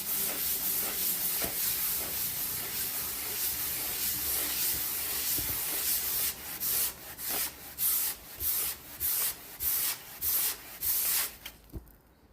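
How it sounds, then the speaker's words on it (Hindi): A thermocol styrofoam sheet is rubbed with wool cloth: first a continuous dense scrubbing hiss, then about ten distinct rhythmic rubbing strokes, close and loud, with no talking. "अब हम इसको रब करेंगे वुल से, ऐसे इवन ऑर्डिनरी क्लॉथ से रब करने भी से भी चार्ज हो जाता है।"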